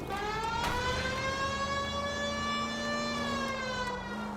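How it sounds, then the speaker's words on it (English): A steady electronic police siren in the video game L.A. Noire wails continuously at close range, its pitch holding nearly constant with only slight dips. "I just put the sirens on"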